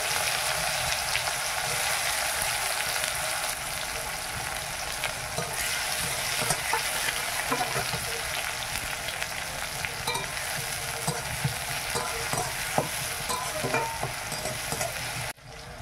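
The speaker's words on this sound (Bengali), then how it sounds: "এইবার আমি লঙ্কা, 2টো তেজপাতা দিয়ে দিলাম, পেঁয়াজ আর টমেটো দিলাম।" Onion and tomato fry with green chilli and two bay leaves in a pan, a loud, steady sizzle broken by scraping stirs and occasional crackles, running on without talk until it cuts off abruptly.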